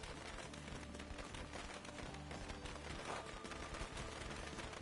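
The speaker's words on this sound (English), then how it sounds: "So basically you just lure zombies over here using firecrackers." Firecrackers crackle in rapid, dense bursts in the video game Dead Rising 2, a continuous popping fusillade heard over game sounds at moderate volume.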